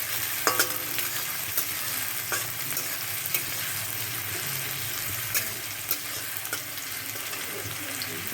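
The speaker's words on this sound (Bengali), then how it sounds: "পেঁয়াজটা ভাজা হচ্ছে" Chopped onions fry in a pan, with a steady close sizzle and occasional scrapes of stirring; no voices are heard, and the cooking is for a spinach and potato dish.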